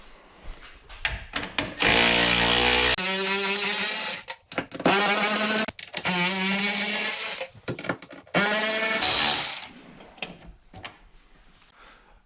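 A power driver backs out T40 roof bolts on a Polaris Ranger UTV, close and loud, in several separate whirring bursts of a few seconds each with quiet gaps and clicks between them.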